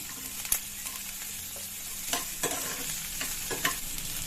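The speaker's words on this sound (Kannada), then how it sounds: "ಈಗ ಈರುಳ್ಳಿ ಹಾಕೊಂಡ್ಬಿಡ್ತೀನಿ. ಫ್ರೈ ಮಾಡ್ಕೊಳ್ಳಿ. ಕ್ಯಾಪ್ಸಿಕಮ್," Chopped onion and capsicum fry in a pan for gobi manchurian, with a continuous close sizzle and a few crisp stirring scrapes spaced through it.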